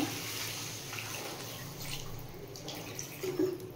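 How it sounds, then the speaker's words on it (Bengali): Water is poured into a pan of sautéed cauliflower and potatoes for a rui fish curry, a steady, soft splashing stream that runs without a break and sounds moderately distant. "এই সময় আমি পরিমাণ মতো জল দিয়ে দেব।"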